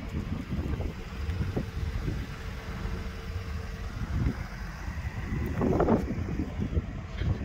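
Gusty wind buffets the microphone outdoors beside a 2023 Ford Transit passenger van, a steady low rumble that swells and eases, with a brief faint voice near the end.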